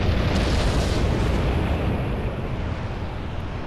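Missile explosions in the video game Halo Reach: a dense, rumbling blast roar that fills the moment and slowly eases off, loud and continuous.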